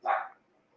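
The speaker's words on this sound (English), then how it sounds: "with the amount of barking your dog does, I'm surprised that it doesn't lose its voice" A single short dog bark rings out once, mid-distance and moderately loud, then fades quickly into quiet.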